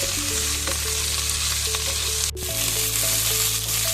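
Potatoes for jeera aloo roast in a pan over a medium flame, a dense, steady sizzle with a constant low hum beneath it and one brief dip partway through.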